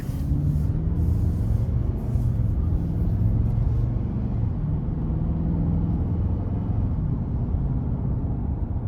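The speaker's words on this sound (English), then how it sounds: "I just love how burly this truck sounds." A 2023 Nissan Titan XD pickup's 5.6-liter engine rumbles steadily and deeply while driving, with road noise underneath and no pauses.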